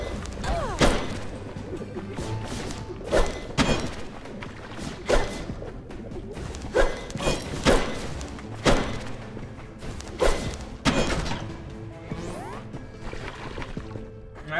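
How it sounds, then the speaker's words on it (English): Bomb blasts in the roguelike video game UnderMine, a series of sharp thuds and crashes recurring every second or two over constant game background sound, with no talk. "I drop a bomb."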